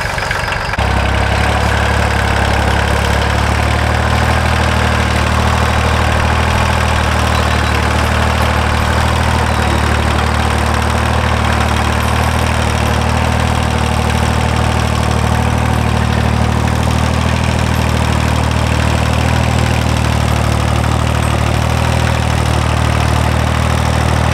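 A loud, steady tractor engine pulling a disc harrow to turn over soil drones continuously with a deep low rumble and vibration, running without pause and with no voices.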